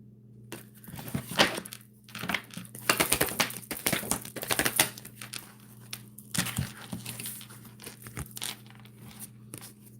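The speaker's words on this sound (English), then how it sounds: "I'm shuffling them, but the same cards are coming out." Cards riffled and shuffled by hand during a tarot-style reading, a dense run of crisp papery flicks and snaps in irregular bursts, close and fairly quiet, with no voices.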